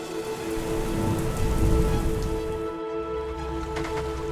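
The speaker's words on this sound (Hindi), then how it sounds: "जहां दुनिया में सबसे ज़्यादा बारिश होती है।" Heavy rain pours steadily in the hills near Shillong, Meghalaya, a dense, loud, continuous patter on surfaces with no voices.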